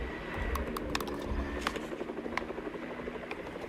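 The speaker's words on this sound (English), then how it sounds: "That's our chopper." A helicopter in a video game, its rotor thumping in a continuous churning drone, moderately loud, with sharp clicking taps over it.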